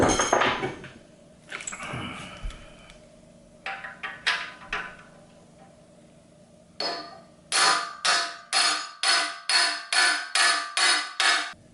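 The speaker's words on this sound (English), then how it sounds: "try the impact screwdriver." An impact screwdriver hammers at screws on a Western Auto 5hp boat motor, first scattered single knocks, then a steady run of about ten sharp, evenly spaced impact bursts, close and clear in a quiet garage.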